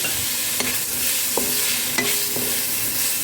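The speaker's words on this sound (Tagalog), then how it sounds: "Ilagay natin ang ating hipon." Shrimp hit a hot pan and sizzle steadily while a utensil stirs them, scraping and clinking against the pan in a few distinct knocks.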